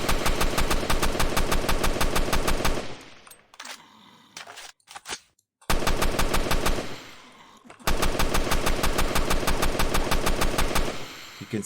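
Rapid automatic gunfire from first-person shooter weapons cutting down zombies in a Unity game, loud sustained bursts with a short lull of quieter game sounds in the middle before the firing resumes.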